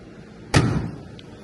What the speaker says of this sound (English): Doors shut good.